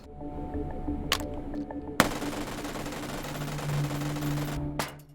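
A FAMAS G2 rifle in the H3VR video game fires a few sharp single shots, then unloads a long, dense automatic burst that runs for about three seconds before stopping abruptly.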